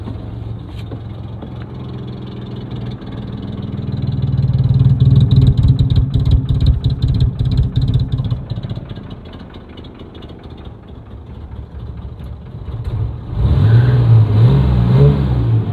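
A Unimog 404 that has sat outdoors a long time runs near the microphone with a rough mid-pitched engine note, swelling through one rev, easing back to idle, then revving hard again.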